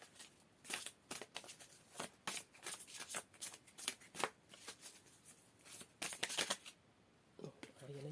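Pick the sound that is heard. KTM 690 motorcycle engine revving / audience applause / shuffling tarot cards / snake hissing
shuffling tarot cards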